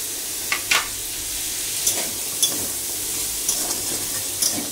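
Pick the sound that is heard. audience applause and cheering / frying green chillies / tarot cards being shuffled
frying green chillies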